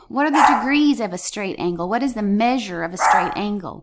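A pet dog barks repeatedly indoors at workers in the house, close and loud, its barks interleaved with and overlapping a person speaking throughout.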